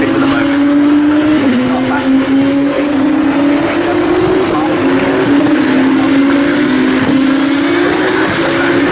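Formula 2 race cars at Silverstone scream past, their engines whining high and shifting pitch as they accelerate down the straight into the DRS zone. A race commentator talks over the loud, continuous engine noise.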